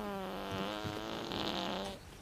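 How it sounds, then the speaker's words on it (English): Comic fart sound effect from a comedy film: a drawn-out, buzzing, reedy blast lasting about two seconds, with a wavering pitch that trails off at the end. "Oh, and here's some fart sound effects."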